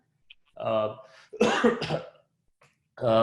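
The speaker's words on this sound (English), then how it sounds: "Sorry, the cough is not COVID, it's just I have dry throat." A person with a dry throat coughs sharply a couple of times during an online webinar, with a brief throaty vocal sound before and after, close to the microphone.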